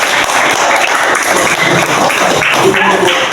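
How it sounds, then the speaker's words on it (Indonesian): An audience claps in a loud, dense burst lasting a few seconds, with voices heard under and among the clapping. "tepuk tangan"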